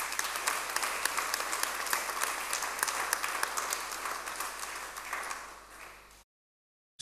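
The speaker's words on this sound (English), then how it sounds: "Please give them a round of applause." An audience claps in loud, sustained applause that thins slightly toward the end before cutting off abruptly into silence.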